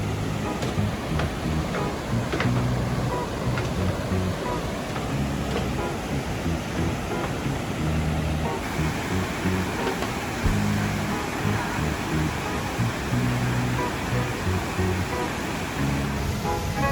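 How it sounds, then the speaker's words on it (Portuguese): Cachoeira da Velha waterfall in Jalapão, Brazil, a steady broad roar of falling water heard at a distance, continuous and even throughout with faint voices and wind noise mixed in. "Vamos ver mais uma cachoeira?"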